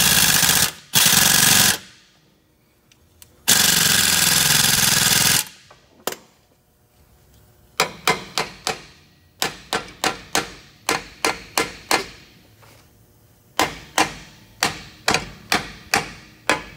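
Hammer blows on a truck air brake chamber clamp: two bursts of loud rasping noise, then a long run of sharp metallic strikes in quick clusters, close and alone without talk.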